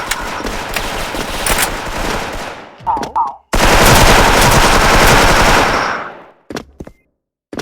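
Loud, sustained automatic gunfire in a video game rattles in long bursts, broken by a short pause and followed by a few scattered shots near the end.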